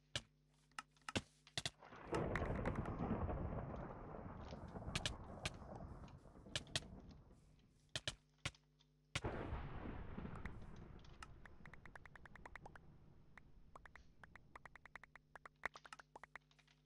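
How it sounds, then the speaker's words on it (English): Explosions in the video game Minecraft, two long rumbling blasts a few seconds apart, each with a roaring tail, among a scatter of sharp clicks and pops, fairly quiet overall. "It will explode."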